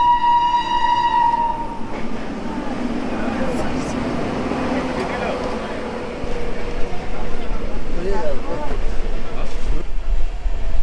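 The Coalfield Express pulls out of Panagarh station, a sustained horn at the start giving way to a loud, steady rumble and clatter of rolling wheels.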